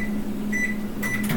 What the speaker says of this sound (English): And this one we're going to put in the microwave as well.